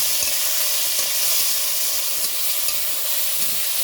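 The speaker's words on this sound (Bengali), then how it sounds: "এই চিংড়ি মাছ আর কাঁকড়া দিলাম, আগে ভেজে নেব" Prawns and crab fry with onion in a pan, making a loud, even sizzle and hiss that holds steady throughout, with light stirring scrapes and no speech.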